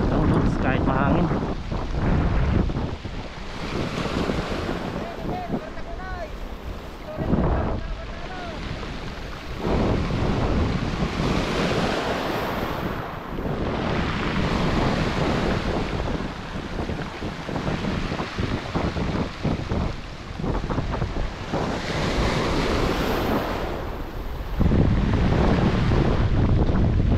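Strong sea wind buffets the microphone in constant roaring gusts while fishing, with the wash of waves underneath throughout.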